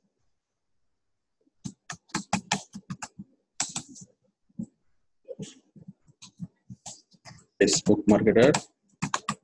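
Quick bursts of clicky keystrokes on a computer keyboard come in short runs, mixed in with a person speaking throughout.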